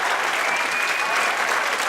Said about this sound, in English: Let's give our kids a big round of applause